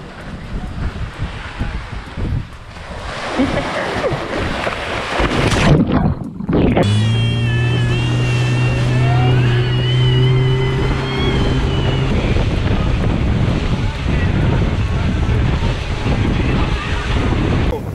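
A boat moving across the sea off Crimea, with steady wind buffeting and the rush of waves filling the whole stretch, and a loud engine-like drone in the middle; people shout and talk over it.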